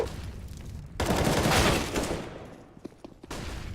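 Gunfire during an esports match of a first-person shooter game, with a sustained burst of rapid shots, a short gap, and then more firing.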